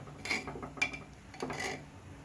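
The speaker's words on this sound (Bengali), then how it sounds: "একটু নেড়ে নেবো কুকারে" Vegetable khichuri being stirred in a pressure cooker, a spoon scraping and clinking against the metal pot in a few short separate strokes, with no talk.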